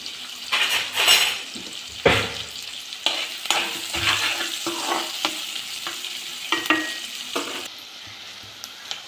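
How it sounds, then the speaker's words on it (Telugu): Chopped onions and green chilies with cumin frying in a small tempering pan, a bright close sizzle with repeated spoon stirs and metal clinks, busiest early and easing toward the end. "చిన్నగా తరిగి పెట్టుకున్న ఆనియన్స్ వేసుకోవాలి అలానే పచ్చిమిర్చి వేసుకొని బాగా ఫ్రై చేసుకోవాలండి"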